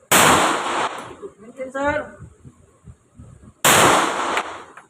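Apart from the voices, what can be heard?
gunshots from firearms at a shooting range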